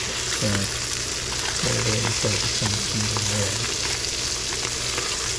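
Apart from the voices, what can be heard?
silver salmon fillet frying in a pan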